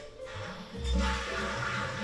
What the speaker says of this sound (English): I always flush all the toilets.